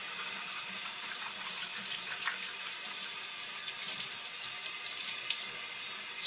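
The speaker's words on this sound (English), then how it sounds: "So I just give it a quick rinse." Tap water runs steadily over printed fabric being rinsed in a sink, a continuous splashing hiss with no pauses throughout.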